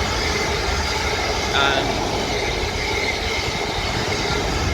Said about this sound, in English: And here we have something else. Double set 450s.